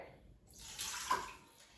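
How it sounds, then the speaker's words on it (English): One cup of water pours into an Instant Pot for pressure cooking, a faint, brief splashing stream that swells and then fades away. "So I'm going to open the lid of the Instant Pot and add 1 cup of water."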